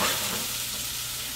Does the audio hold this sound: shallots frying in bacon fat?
yes